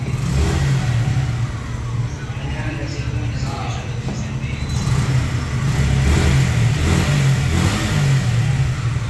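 A motorcycle engine revs and runs steadily close by, its pitch rising and falling, with people talking over the mechanical drone.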